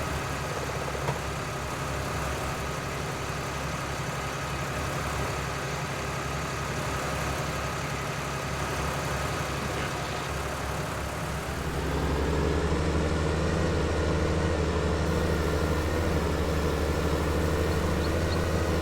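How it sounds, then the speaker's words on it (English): Harvester and tractor engines from the farming game Farming Simulator 19 drone steadily at idle, a continuous mid-low rumble that grows slightly louder and deeper partway through. "This harvester and this tractor are going straight back to the shop."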